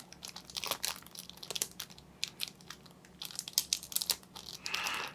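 Plastic wrapping crinkles and tears close up as a pack of board game cards is opened, with irregular crackling bursts of varying loudness and a longer rustle at the end, and no talking.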